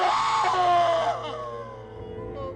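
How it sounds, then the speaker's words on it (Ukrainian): A reanimated corpse rises and screams in a horror story, a loud, strained cry that wavers and slowly trails off, standing alone. "Труп підвівся і крикнув."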